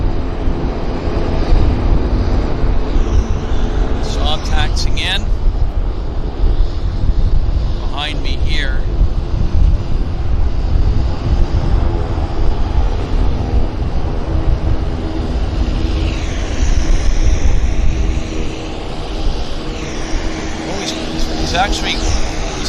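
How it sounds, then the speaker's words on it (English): A Saab 340 turboprop taxis in at Vancouver International Airport, its engines producing a steady, loud droning rumble throughout, with brief higher whines cutting in and a voice talking over it. "the Saab 340 taxiing in now"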